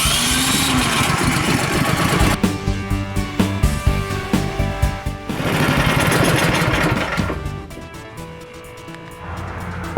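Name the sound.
snowblower engine running to warm the oil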